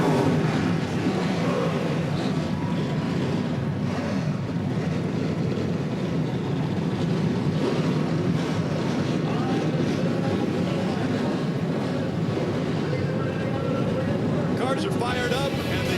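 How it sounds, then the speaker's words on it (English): Race car engines fire up together at Toledo Speedway before the 2014 ARCA Menards 200, a dense, steady roar blended with the noise of a sold-out crowd and faint voices throughout. "Cars are fired up"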